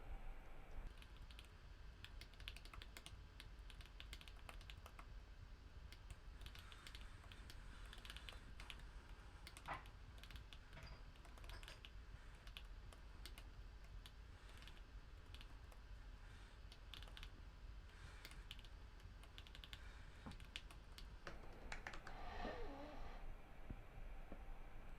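Faint typing on a computer keyboard while writing code, a continuous run of quiet, rapid key clicks for the whole stretch, distant and unaccompanied by speech.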